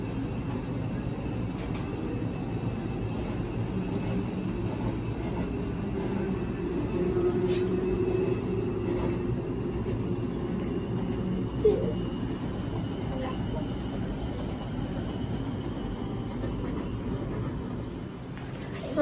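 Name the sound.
metro train passing below, Kuala Lumpur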